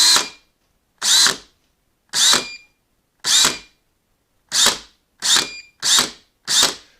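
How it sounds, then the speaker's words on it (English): Drill motor pulsed in eight short bursts, each a loud, close whirring rev lasting under half a second, the first few spaced about a second apart and the last ones coming faster, with silence between. "So here's the drill motor."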